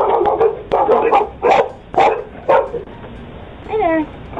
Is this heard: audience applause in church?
no